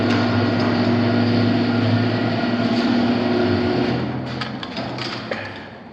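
A motorized garage door opener in a remodel of a 1960s North Dallas home hums steadily and fairly loud for several seconds, then tapers off near the end with a few faint clicks and knocks.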